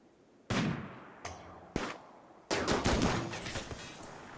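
Sniper rifle shots ring out in a Rimworld firefight: a few sharp, separate cracks with decaying tails, followed by a denser run of rapid shots, all close and loud with no talking.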